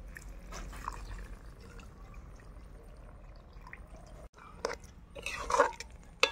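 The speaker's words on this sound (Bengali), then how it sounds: "কিছুটা জল দেব" Water poured into a cooking pot gives wet drips and splashes, soft at first and then louder near the end, with no talk.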